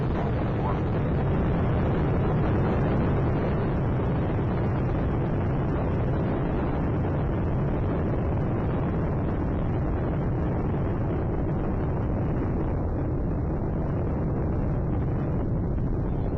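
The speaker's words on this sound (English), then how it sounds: "all three engines now throttling down as the vehicle passes through the area of maximum dynamic pressure" Space Shuttle Atlantis rises on its STS-125 launch, its three engines producing a loud, continuous broadband roar that rumbles steadily without pause for the whole stretch.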